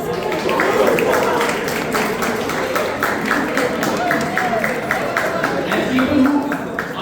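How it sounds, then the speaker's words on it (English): Applause from a meeting audience, a dense, continuous patter of many hands clapping for several seconds, with some crowd voices mixed in. "A huge round of applause."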